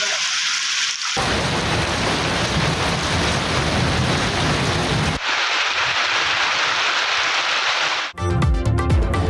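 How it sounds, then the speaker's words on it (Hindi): Heavy monsoon rain in a storm spell over Lahore and Kasur, a loud, steady wash of downpour that briefly cuts out and returns, with a sharp change of sound near the end. "बादल ऐसे बरसे कि फिर दिन रात बरसते रहे।"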